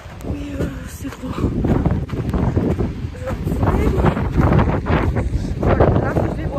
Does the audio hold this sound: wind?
yes